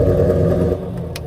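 A Ford Mustang Shelby GT350R engine fires up with a loud low rumbling exhaust burst that settles into a throaty idle, short and close, with no speech.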